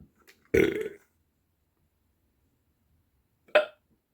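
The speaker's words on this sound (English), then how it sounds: "Sorry, it's a hiccup." A person lets out two short hiccups up close: a sharp throaty burst, then after a long silence a second, briefer one. There is no talking.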